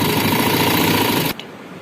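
A sewing machine runs a rapid, dense stitching rattle along the strip of a tulip shalwar, loud and close, then stops abruptly, leaving a faint hum.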